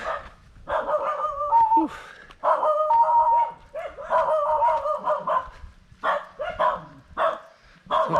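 Farm dogs at a rural house in the Philippines bark repeatedly at an arriving visitor, loud and close, in bursts with short pauses, and a person speaks briefly between them.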